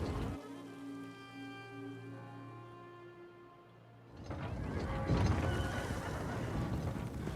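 A horse in Elder Scrolls Online whinnies at first over sustained music, then hoofbeats and broader noise take over, loud and close.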